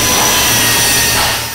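Steel beams for a film studio building being cut on industrial saw and drill lines at a fabrication plant, a loud, continuous grinding roar with a steady mechanical hum that eases slightly at the end.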